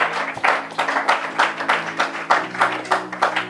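A church congregation claps together in a steady, rhythmic beat, many hands striking in time at a brisk, even pace, loud and close.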